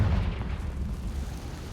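A Confringo fire spell explodes in Hogwarts Legacy with a dense, booming low rumble that fills the moment without pause, loud and close.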